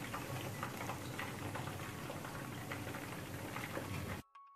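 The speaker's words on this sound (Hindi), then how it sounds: "ये पीसीस फ्राई कर लेते हैं" Chicken pieces for a restaurant-style Indo-Chinese Schezwan chicken fry in oil with a dense, steady crackling sizzle that holds at an even level, then cuts off abruptly near the end.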